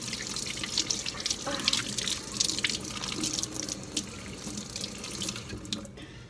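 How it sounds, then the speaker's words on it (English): Tap water runs steadily into a sink while hands are washed beneath it, a close, continuous splashing hiss with small irregular surges and drips, no voices present. "So yeah, I just wash my hands normally."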